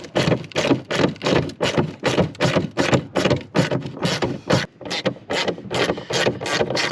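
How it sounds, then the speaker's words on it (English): A ratchet and socket undoing 8mm tail light bolts on a Ford Escort RS Turbo, a steady run of loud, close ratcheting strokes in a regular rhythm with one brief pause. "I'll just quickly get a ratchet and socket and we will get this tail light out."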